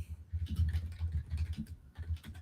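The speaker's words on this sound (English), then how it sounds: "he's typing something" Computer keyboard typing, a quick irregular run of light plastic key clicks heard close and alone at low level, with short pauses between bursts.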